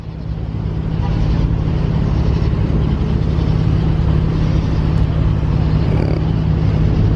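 A car engine idles right after people climb in, a steady low rumble close by that holds without a break for several seconds.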